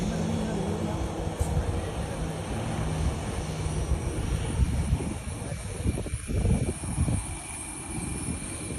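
A loud, steady roar of an Oman Air airplane landing at Kozhikode airport rumbles throughout, close and continuous, with faint murmuring voices underneath.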